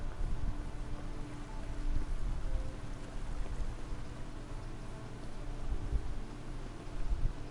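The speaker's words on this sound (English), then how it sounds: "Oh, great. Now it's raining." Steady rainfall in the medieval video game Kingdom Come: Deliverance, a soft continuous patter and hiss of drops heard alone at low volume throughout.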